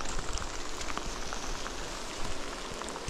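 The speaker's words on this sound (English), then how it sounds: "Raining a lot." Heavy rain pours down steadily at a campsite in Sarek, a dense, close patter of drops on surfaces throughout, with no voices.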